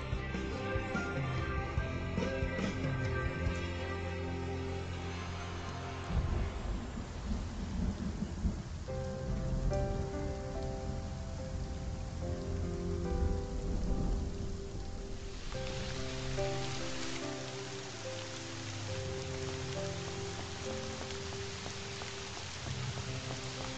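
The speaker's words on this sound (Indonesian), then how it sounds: "Hujan di Shanghai sampai ke Beijing." Steady rain with deep rolling thunder runs throughout, mixed with a soft musical score underneath; nobody speaks.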